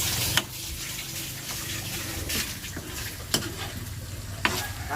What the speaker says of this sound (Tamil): அப்படியே எண்ணெயை விட்டு எல்லாம் மிக்ஸ்டு வெஜிடபிளாக போட்டு